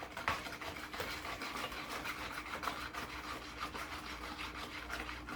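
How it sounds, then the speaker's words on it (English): Applesauce cake batter being whisked in a bowl, a steady scraping, rubbing stir that runs continuously at moderate level with no talking. "Just kind of whisk it up a little better."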